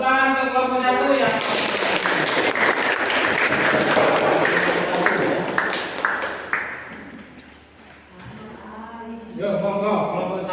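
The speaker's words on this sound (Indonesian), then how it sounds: "Tepuk tangan untuk kelompok 1 ya." Students in an Indonesian classroom applaud the first group before its presentation: steady, dense clapping that swells and then tapers off over several seconds, with a voice speaking at the start and again at the end.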